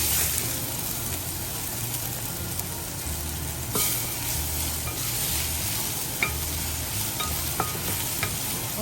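Beef for Filipino bistek frying and browning in a hot pan, a loud, steady close-up sizzle that continues throughout with a few faint clicks and knocks.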